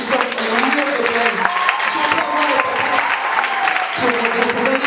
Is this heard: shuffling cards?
no